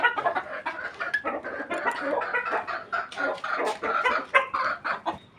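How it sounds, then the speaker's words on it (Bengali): Hens kept at home, one of three currently laying eggs, cluck in a busy close series of short, uneven calls that continue throughout without talking. "তিনটে মুরগি আছে কিন্তু আপাতত একটা মুরগি ডিম দিচ্ছে"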